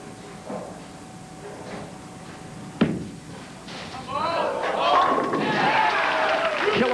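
A bowling ball strikes the pins for a strike in a 1991 PBA Tucson Open championship match, a single sharp crash heard at mid distance, followed by crowd noise and commentators talking.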